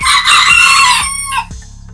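Serama bantam chickens in a backyard, with loud close clucking and crowing-like calls over the first second and a half, followed by quieter background from the flock.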